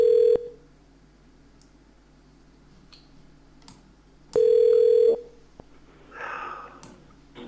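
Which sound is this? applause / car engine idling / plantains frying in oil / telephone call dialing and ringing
telephone call dialing and ringing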